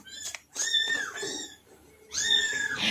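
Small kittens that have just started walking give several high, thin meows close by, in two clusters separated by a brief quiet pause.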